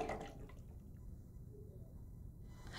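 Filtered, softened water pours steadily into the reservoir tank of a Rancilio Silvia espresso machine, a soft continuous splashing trickle that stays quiet throughout.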